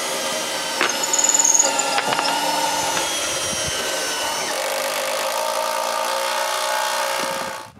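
Power drill boring holes for lag bolts while rebuilding a cottage dock, a loud sustained motor whine with a few brief bursts and pitch shifts, then winding down at the end.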